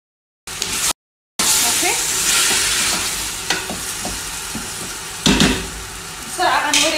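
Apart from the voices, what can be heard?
chicken added to frying onions in pot, sizzling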